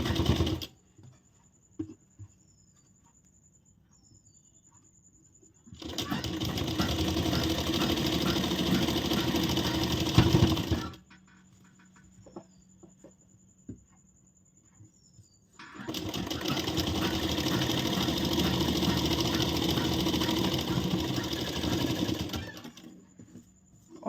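A sewing machine runs a straight seam on a blouse in two distinct bursts of about five and eight seconds, loud and close, with quiet handling sounds in the pauses.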